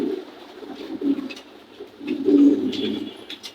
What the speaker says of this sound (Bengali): ডাউন শেপের কবুতরগুলো